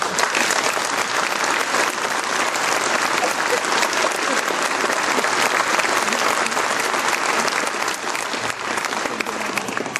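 Loud, sustained applause from a large audience fills the whole stretch, a dense steady roar of clapping honouring people at an Olympic New Year wishes ceremony.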